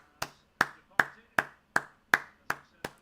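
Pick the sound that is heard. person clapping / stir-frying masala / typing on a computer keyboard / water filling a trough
person clapping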